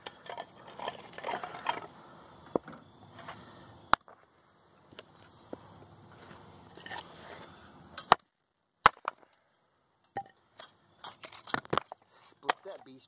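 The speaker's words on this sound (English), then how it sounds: "Split that beast right in half." A Gerber Strongarm knife is driven through gumball tree wood to split it for a fire, giving sharp, isolated chopping cracks outdoors with talking heard in between.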